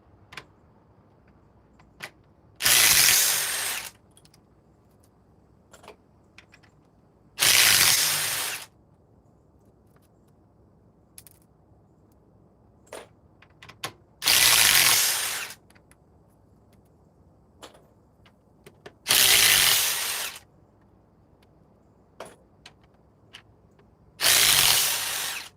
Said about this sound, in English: Still removing everything with the Ryobi.